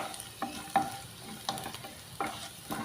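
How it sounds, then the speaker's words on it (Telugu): Bitter gourd frying in oil gives a soft sizzle broken by about five distinct scraping stirs at roughly half-second intervals, close and fairly quiet, with no voices. "ఆయిల్లో యాగనివ్వాలి"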